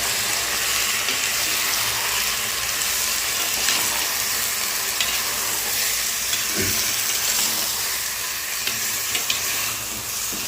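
Chicken stirred while frying in a clay pot (handi) for a rustic village-style dish, giving a steady, dense sizzle with light scraping, close and continuous without speech.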